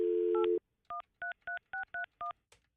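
A dial tone cuts off, then a quick run of about seven touch-tone beeps as a phone number is keyed in, clear and close with no talking.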